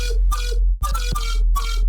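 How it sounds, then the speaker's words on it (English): A synth plays short chopped notes in a pulsing rhythm, its sound dense, loud and heavily squashed by multiband OTT-style compression, with a brief gap midway. "I have a compressor set to multi-band mode and doing a little bit of an OTT effect."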